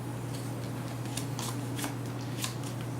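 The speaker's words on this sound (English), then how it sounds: "We're going to shuffle this back in." Cards from the Pathfinder Adventure Card Game are shuffled close up, a run of quick papery riffles and flicks over a low steady hum.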